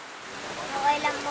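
Steady rain pours down outdoors, a dense, even hiss that swells slightly near the end, with faint mid-pitched tones drifting through it.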